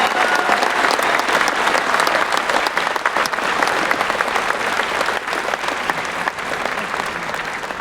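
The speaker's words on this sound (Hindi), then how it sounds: "एक दूसरे के लिए जोरदार तालियां बजा देंगे" Loud, dense audience applause fills a large stadium hall at the IMC Lakshya 2026 event in New Delhi, a steady wash of many hands clapping that holds for several seconds without letting up.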